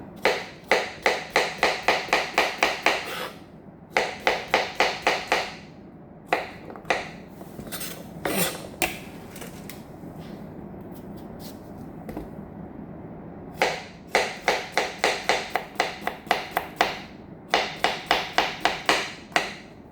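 Knife chopping cucumbers on a board for an avocado salad, quick bursts of rapid even taps in runs of about a dozen, pausing midway with softer handling clatter before the chopping resumes, close and clear with no talking.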